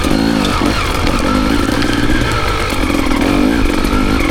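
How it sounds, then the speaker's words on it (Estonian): An enduro motorcycle engine runs steadily and loud up close, with a continuous droning rumble and some clattering throughout, outdoors during an off-road riding outing. "minu ilus mootorratas"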